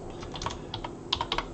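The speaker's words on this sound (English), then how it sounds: "So if I restart or refresh and write in let's say Josh" Typing on a computer keyboard, a short burst of light, close key clicks in an uneven rhythm with a faint background hiss.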